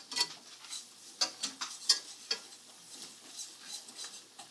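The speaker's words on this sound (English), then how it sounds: "So I'm just gonna whisk it around and let the butter absorb the flour, just like that." A whisk scrapes and clinks against a pan, working a butter and flour paste around cooked onions: a few quick metallic taps and soft stirring strokes, fairly faint and close, with no talking.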